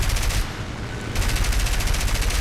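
Four machine guns firing from an I-15WR plane in the video game War Thunder, a dense, continuous rattling burst that stays loud and close, briefly dipping in intensity before resuming at full rate.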